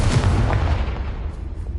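Bombarda and Confringo explosion spells going off in a Harry Potter video game, a dense rumbling blast with low booming bursts in the first moments that decay into a continuous dull roar.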